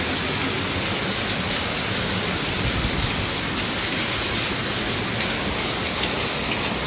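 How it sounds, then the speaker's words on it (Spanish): Steady, heavy rain pours outdoors in Matamoros, Tamaulipas, Mexico, a dense, even hiss of drops on surfaces that holds at constant loudness throughout with no talk. "Está lloviendo, chicos."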